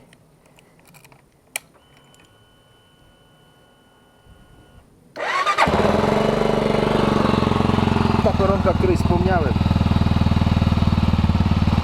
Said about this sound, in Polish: ma bardzo fajny dźwięk takiego jednocylindrowca